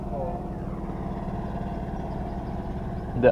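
Two motorcycles idle beside a river on a fishing outing, giving a steady low engine throb that runs under ongoing conversation for the whole stretch, with a brief louder bump at the very end.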